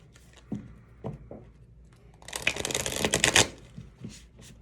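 Tarot cards are shuffled close up in a quiet room: a few soft taps and slides, then a dense burst of rapid riffling flutter lasting over a second before the cards settle.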